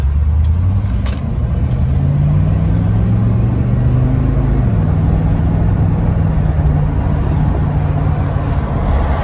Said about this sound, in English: I can give it a squirt at full acceleration and we'll see if it kicks down